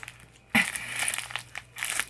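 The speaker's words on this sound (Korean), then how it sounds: "아우 뭘 이렇게 질긴 질긴 비닐로 해놨지?" Tough plastic packaging around a small yarn item is crinkled and crushed in a sudden close burst, followed by a few more bouts of rustling and crackling.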